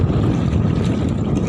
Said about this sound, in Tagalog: Grabe yung hangin mga kapartner oh.